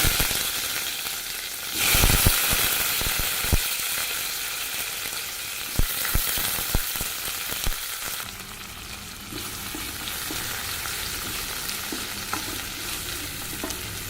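Fennel seeds and chopped onions fry in hot oil for a vegetable kurma, with a continuous close sizzle and repeated scraping stirs and spoon knocks against the pan.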